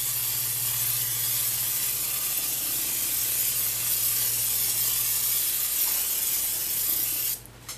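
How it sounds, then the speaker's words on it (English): Cooking oil misted from a refillable oil sprayer while preparing eggplant Parmesan, a steady close hiss running for about seven seconds before stopping abruptly. "So I got that nice and sprayed."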